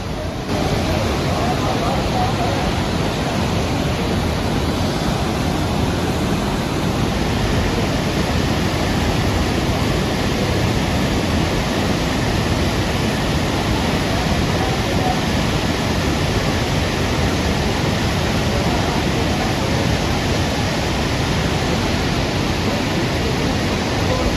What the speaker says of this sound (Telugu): ఆ వాటర్ ఫ్లో వల్ల మనకి వాయిస్ అయితే వినిపించదు అంత ఉధృతంగా ప్రవహిస్తూ ఉంటుంది ఇక్కడ సరస్వతి నది